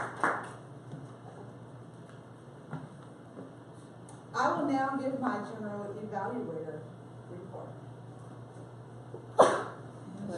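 A single short sneeze bursts out near the end, following a few seconds of quiet room tone and a brief spoken phrase.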